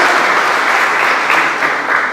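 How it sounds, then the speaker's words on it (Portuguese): A church congregation claps steadily at an Easter service, a dense, even wash of applause filling the room from start to finish with no pause. "Dá uma salva de palmas ao Senhor, irmãos"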